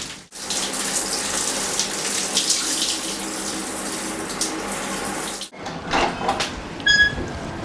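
Shower water runs steadily in a bathroom while someone bathes and hand-washes underwear, a continuous hiss that stops briefly, then resumes with clattering and a squeaky tap.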